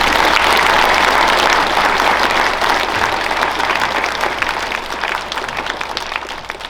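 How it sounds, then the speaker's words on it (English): A school audience at a Veterans Day program applauds the staff with dense, sustained clapping that starts strong and slowly tapers over several seconds, with no voices on top. "can I hear a round of applause for all of our staff here"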